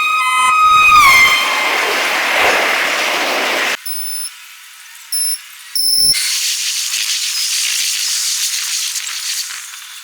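A Superfast Express train running from Vijayawada to Nizamuddin, New Delhi, sounds a loud horn at the start, then settles into a steady rumble broken by a few short electronic beeps, with no voices.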